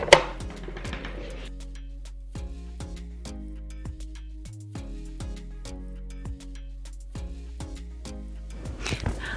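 Rapid, regular knife chops on a board, close and clear, a steady rhythm of sharp taps running for several seconds.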